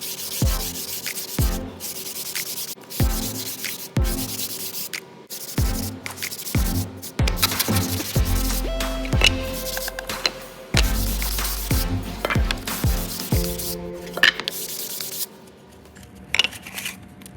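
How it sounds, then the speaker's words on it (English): Hand sanding of wood with a sanding block and 100 then 180 grit paper while building a DIY wooden toolbox: close, rhythmic rasping strokes repeating steadily, with brief pauses between passes. "with our new sanding block, we're going to start with 100 grit, and then we're going to switch over to 180"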